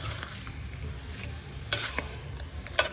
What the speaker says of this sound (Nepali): यता चाहिँ मेरो रारा चाउचाउ उम्लिँदैछ